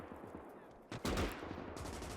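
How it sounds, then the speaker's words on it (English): In a Gates of Hell battle, sharp explosions burst close by amid distant gunfire. One heavy blast is followed by more rapid cracks over a low rumble. "Oh, a lot of grenades going off."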